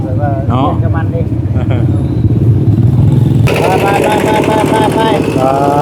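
A motorcycle engine runs steadily and close by, its low drone growing louder and rougher partway through, with people talking over it.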